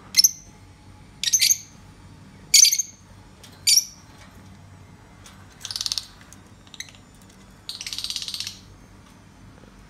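Fischer's lovebirds in an indoor cage give sharp, high chirps in separate short bursts, then longer chattering runs, over a faint steady background hum with no voices.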